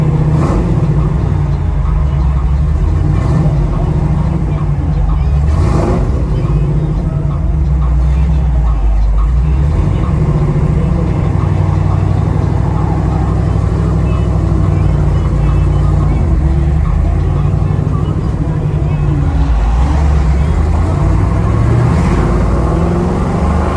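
A 1969 Chevrolet Nova with a fuel-injected 427 engine on a test drive, its deep engine drone steady and loud inside the cabin, with low rumble and slight swells in pitch through the whole stretch.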